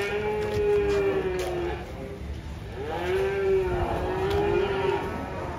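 Cattle at a busy livestock market low repeatedly, several long moos rising and falling over a steady crowd murmur and distant chatter.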